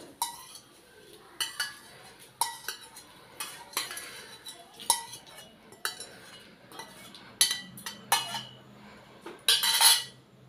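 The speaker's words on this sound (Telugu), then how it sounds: "ఈ పచ్చడిలో కలిపేసుకుందాం." Metal spoon scraping and clinking against a bowl while stirring tempering into tomato coriander chutney, irregular close taps and scrapes at moderate volume, with a brief faint sizzle near the end.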